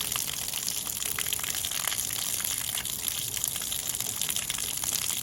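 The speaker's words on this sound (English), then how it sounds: "The water is coming out." Water drains from an LG washing machine whose drain motor had a fault, a steady, even gushing and splashing rush running continuously with no pauses and no voices.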